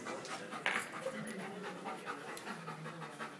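A hyper dog pants rapidly and rhythmically close by, soft and breathy with a few small snuffles, without anyone speaking.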